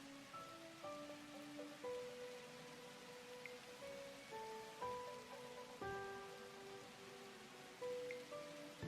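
Soft, steady rain patters continuously at low volume in the video game The Universim, while gentle tonal notes ring out now and then.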